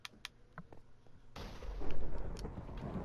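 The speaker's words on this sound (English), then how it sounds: "Why do I hear lightning?" Thunder in the video game Minecraft, heard while underground in a cave: a sudden deep rumbling roll that swells loudly and lingers after a few quiet clicks.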